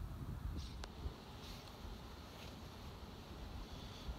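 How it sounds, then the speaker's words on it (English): Winter wind sweeping over open water during a paddle-sports pickerel fishing tournament in Delaware: a faint, continuous rushing blow with soft lapping surf and low rumbling gusts against the microphone, no voices. "here comes the wind"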